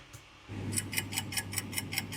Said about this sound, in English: This clock thing, I did a timer effect